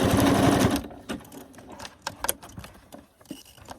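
A sewing machine stitching a basket with red thread, a loud fast mechanical whir at the start, then slower scattered clicks and single stitches nearby.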